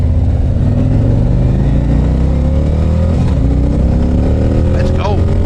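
A 2024 Harley-Davidson Road Glide motorcycle engine on a test ride, loud and close, its steady drone rising in pitch as it accelerates through the gears, with a rider's voice over it.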